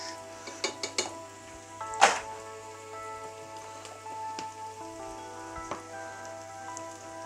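Mild curry powder tipped into a hot pan for a curried sweet potato and butternut squash soup, giving a soft steady sizzle with a few sharp clicks and a brief scrape, fairly faint with no talk.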